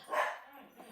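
Excited dogs barking as people return home, one loud bark burst near the start followed by quieter yips, fairly close.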